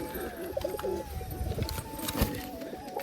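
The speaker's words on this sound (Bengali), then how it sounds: "এই যে এই পায়রাটা এসে আবার খাঁচায় ঢুকে পাচ্ছে" Domestic pigeons coo in a cage at a home loft, a steady run of soft, low burbling coos close by over light background noise.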